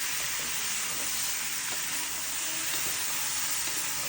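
Meat sizzling loudly in a hot pan, a dense continuous frying hiss close up with no voices over it.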